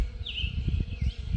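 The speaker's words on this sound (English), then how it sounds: "With all the birds and the doves and the" Birds chirp and trill in the early morning at sunrise, one clear whistled call standing out over a steady low rumble of a drone and distant background noise.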